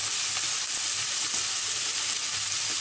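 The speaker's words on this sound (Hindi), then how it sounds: "तेल गर्म हो गया है, अब इसमें हम बारीक कटा हुआ प्याज, बारीक कटी हुई हरी मिर्च," Finely chopped onion and green chili frying in hot oil for vegetable semolina upma, a steady broadband sizzle with faint stirring, close and continuous with no talk.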